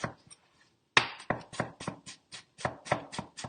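A knife slicing a cucumber by hand on a board, a steady series of about a dozen crisp, close chops after a short pause, with no one talking.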